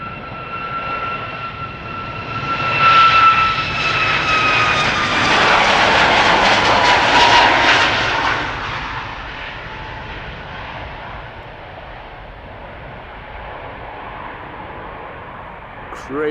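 A TUI Boeing 737 on flight 1605 at Schiphol Airport roars past, its jet engine noise swelling loud and whining before slowly fading into a distant rumble, with a voice talking over it.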